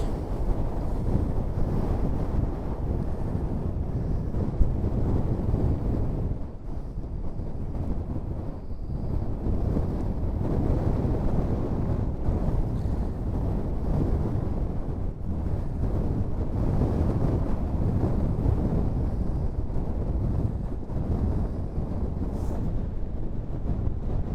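Strong wind roars along the Scottish coast as a storm begins, a loud, continuous buffeting rumble with heavy wind noise on the microphone and no speech.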